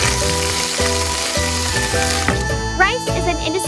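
Fat sizzles and crackles continuously in a small hot pan while making butter garlic crab, close up, while a brief voice sounds faintly toward the end.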